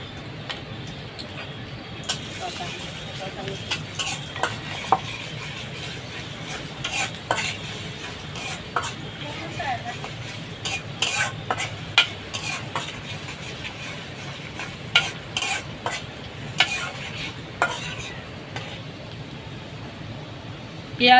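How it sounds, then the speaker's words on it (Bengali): Chopped onion frying in hot soybean oil in a wok, with a steady close sizzle and repeated scraping, clattering stirs of a utensil against the pan throughout. "এখন তেলে পেঁয়াজ কুচি দিয়ে দিব।"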